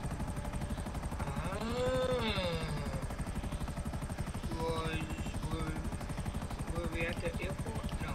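A helicopter arrives in Grand Theft Auto V with a steady, loud rotor chop filling the whole stretch, while a voice talks over it.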